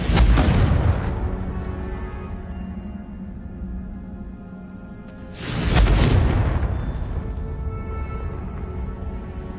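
Loud booming explosions of the Confringo blast spell in a PlayStation 4 video game, two big bursts a few seconds apart, each followed by a rumbling decay, with no talking.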